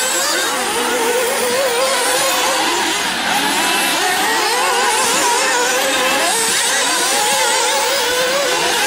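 Electric Losi RC buggies race together on a sportsman buggy track, making a dense, constant high whine of motors that rises and falls across the full stretch, loud and close with no break.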